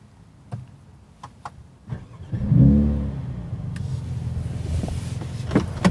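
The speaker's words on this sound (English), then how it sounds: "So you can have a louder exhaust note when you start it like this." A 2019 Mercedes-AMG A35 fires up from cold after a few clicks, and its exhaust gives a loud burst that settles into a steady, throaty idle close by.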